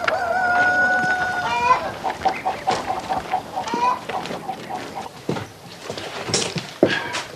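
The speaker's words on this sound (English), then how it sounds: "Now please note the free-range chickens" Free-range farmyard chickens cluck and squawk close by in irregular bursts, with a rooster-like call near the start and scattered sharp cackles throughout.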